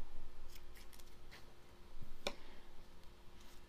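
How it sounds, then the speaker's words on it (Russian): Scissors snip once through crochet yarn after a chain stitch, a single sharp, brief cut heard close up amid quiet handling noise. "1 воздушная и обрезаю нитку."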